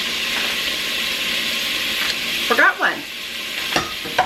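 Onions sizzling loudly in a hot pan with browning beef tips and mushrooms, a constant hissing fry broken near the end by a few stirring scrapes and clatters; a voice speaks briefly over it.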